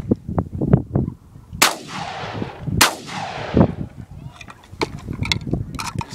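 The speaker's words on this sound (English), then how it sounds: "he's gonna shoot it with his shotgun" Two loud shotgun blasts from an over-under 12 gauge fired outdoors at a Raggedy Andy doll, each sharp report followed by a rolling echo, with people talking before and after the shots.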